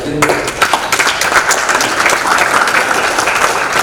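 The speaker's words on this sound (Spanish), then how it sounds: "Le vamos a pedir que se ponga de pie para darle un aplauso a esta persona" A room full of people breaks into loud, sustained applause, dense clapping continuing steadily throughout.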